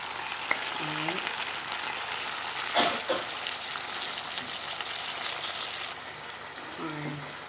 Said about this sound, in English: so we're just gonna stir that in